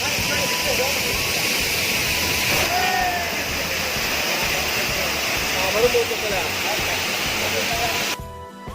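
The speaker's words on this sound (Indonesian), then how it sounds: "Ternyata air terjun Sarasah bertingkat kawan-kawan." The tiered Sarasah waterfall near Padang, West Sumatra, roars steadily with a constant rushing hiss, loud and close, under faint voices.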